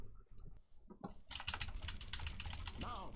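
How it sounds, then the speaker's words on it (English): Someone taps the E key on a computer keyboard over and over while playing a game, making rapid close clicks that get denser and steadier after a brief pause. A voice talks faintly in the background. "I'm not actually clicking, I'm pressing E"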